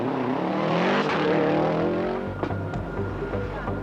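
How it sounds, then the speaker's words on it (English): A Group A Subaru Impreza rally car on the 1999 Circuit of Ireland rally roars close by with a loud, rising engine note, then shifts and drones on steadily. "the Eurocables car comes into Newry in 5th place, 51 seconds behind Nesbitt's leading Impreza"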